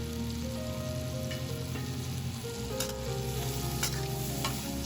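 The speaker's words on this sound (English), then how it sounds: "quickly stir fry." Bell pepper and potato slices with garlic sizzle in a hot wok as they are stir-fried, a steady close crackle with scraping stirs and faint background tones, no talk.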